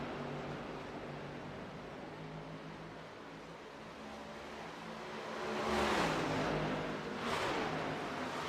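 Race cars circle Darlington Raceway in an Old Glory Cup event, a steady distant engine roar swelling into two loud passing bursts with Doppler sweeps toward the end.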